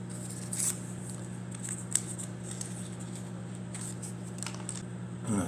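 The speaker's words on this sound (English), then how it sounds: "I'm going to clean these scissors with alcohol." Small scissors for repotting a Phalaenopsis orchid are handled at close range, giving soft metallic clicks and rustling with a sharper snip near the middle and another at the end, over a steady low hum, with no talking.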